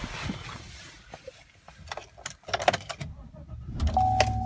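Getting into a pickup truck with a red-stitched all-terrain interior, with faint rustling, clicks and light key jingles, then a door or chime-like tone and a low thump near the end.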